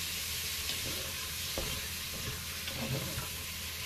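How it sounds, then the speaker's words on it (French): Pork kidneys brown in a Cookeo multicooker pot, giving a soft continuous sizzle with a few light stirring scrapes, close but fairly quiet, with no voices. "Allez, là on fait dorer."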